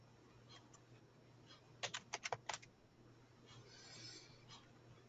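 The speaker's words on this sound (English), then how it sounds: "you can just start typing it in and clicking it." A quick burst of about six to eight computer keyboard keystrokes clicks close by in the middle, with faint scattered taps before and after over a quiet room hum.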